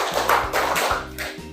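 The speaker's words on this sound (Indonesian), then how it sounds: "tepuk tangan untuk kelompok 4" Classroom applause for a student group, a short burst of claps and taps from pupils that rises and falls in a few quick waves.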